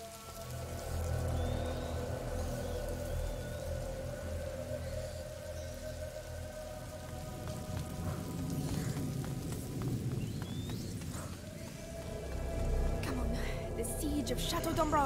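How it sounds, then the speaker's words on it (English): Steady rain in a video game, a constant patter over low rumbling and musical tones, with voices speaking over it. "Lucas, Hugo, stay out of the rain"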